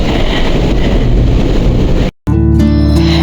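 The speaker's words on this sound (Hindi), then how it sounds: "ठंडी ठंडी हवा, बारिश।" Cool wind gusts over an outdoor microphone during June monsoon rain in the hills, a loud continuous roar that cuts out abruptly near the end before a different, tonal sound takes over.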